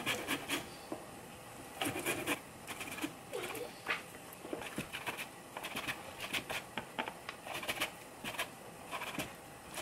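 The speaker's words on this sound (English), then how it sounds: "I'm gonna use this grater, so just grate the zest from an entire lemon." A whole lemon's zest rubbed against a hand grater into a bowl: close, quiet, rapid scraping strokes in uneven rhythmic bursts, continuing steadily with no talking.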